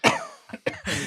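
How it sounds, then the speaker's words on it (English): A man coughs up close, a sharp loud burst followed by two shorter harsh coughs in quick succession, alone with no talk. "me get that cough out"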